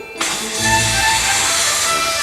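Steam cleaner working on a bronze statue during restoration: a jet of pressurized steam bursts on after a brief quiet moment, then holds as a loud, continuous hiss with a faint underlying whine.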